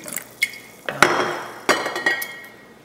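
Witch hazel and a vinegar mixture poured by eye into a glass jar, with several bright glassy clinks and short liquid splashes spread over a few seconds, close and fairly quiet, with no talking.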